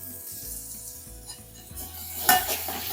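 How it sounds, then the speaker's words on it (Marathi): Onion, tomato and ginger-garlic paste stirred in a hot pan, a spoon scraping and clinking against the metal over soft sizzling, with a sharper clatter near the end, no speech. "कांद्याने थोडासा कलर बदलला की त्याच्यामध्ये आलं लसूण पेस्ट मिक्स करून घ्यायची"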